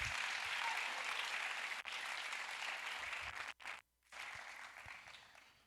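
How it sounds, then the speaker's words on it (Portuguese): A church congregation at a Saturday morning youth congress applauds together, a dense sustained wash of clapping that cuts off abruptly near the end and then picks back up more softly. "Dê um aplauso se você é crente"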